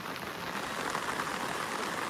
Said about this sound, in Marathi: पाऊस आलाय